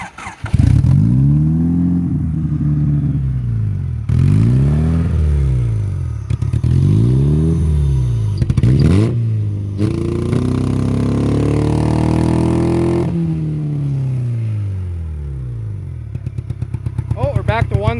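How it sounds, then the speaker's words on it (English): A failing Honda Civic engine running on only one cylinder revs up and down repeatedly, loud and close, with uneven rising and falling swells and a rough, lumpy tone, and voices can be heard at times. "Oh, we're back to one cylinder."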